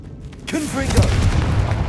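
A Confringo fire spell bursts in Hogwarts Legacy, a sudden booming blast about halfway through followed by a low rumbling tail, with music and in-game voices beneath.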